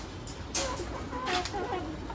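A hen clucks a few times nearby over low background noise, with a brief sharp sound near the start.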